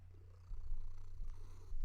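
Cat purring loudly, a deep, steady rumbling purr close to the microphone that swells louder in rhythmic breaths, with no other sounds.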